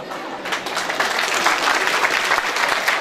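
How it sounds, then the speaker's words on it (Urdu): Audience applause at a school's annual prize distribution ceremony. It is steady and dense, with many hands clapping at once, and it swells slightly after a quieter start. "جتنی میری بڑی بڑی آنٹیاں انہوں نے زیادہ تالیاں بجائی ہیں"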